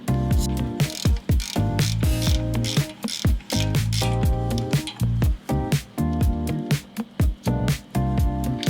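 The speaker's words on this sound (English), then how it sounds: "We're gonna be using an 18mm socket on this bolt right there." A ratchet with an 18mm socket works loose a brake caliper bolt on a 2016 Chevy Equinox, its pawl clicking loudly and rapidly in repeated runs with brief pauses between strokes, close and alone.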